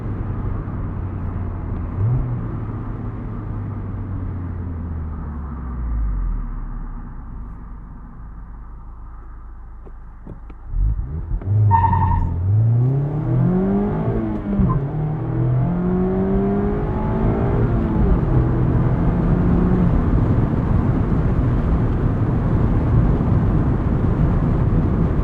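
A 2023 Mazda MX-5 Miata ND2 on a backroad at sunset, engine note dropping as it slows, then a brief shift and a strong rising pull through the gears, loud interior drone with road and wind noise, no talking.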